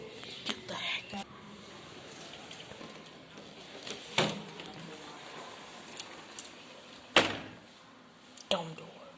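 An indoor door bangs and thuds several times in a kitchen, with sharp loud knocks scattered among quieter rustling and handling sounds; close by, no talking.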